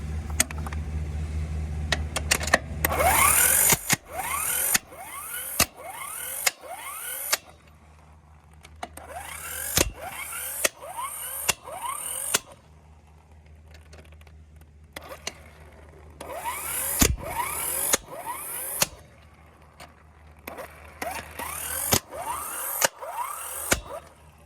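A Specstar 4-in-1 electric jack's impact wrench tightening nuts, with bursts of motor whir spinning up into rapid hammering impacts, separated by short pauses.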